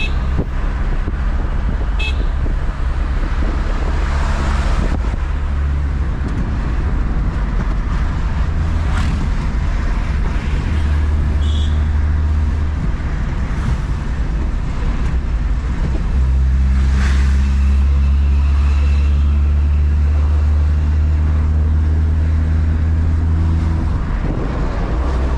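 Road traffic rumbles continuously near a railway line in India, with a steady low engine drone, passing vehicles and occasional horn toots over roughly twenty-five seconds, without any talking.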